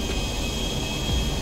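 Airplane taking off in GTA 5, a steady loud jet engine roar with a sustained high whine over deep low rumble, continuous and close throughout without speech.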